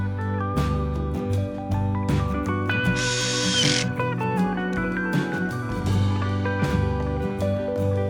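A cordless power tool tightens the throttle handle clamp screw on a Husqvarna pole saw, with several close, whirring bursts of varying pitch separated by short pauses.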